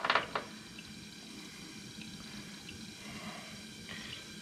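Engine oil trickles steadily from the drain of a Honda CB500X motorcycle during a 15k-mile service, a soft continuous pour with a brief louder splash at the start and faint drips over a low background.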